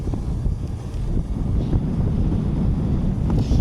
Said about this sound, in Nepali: अहिले यस्तो बाइकमा हिँड्दा यस्तो हावा आउँछ नि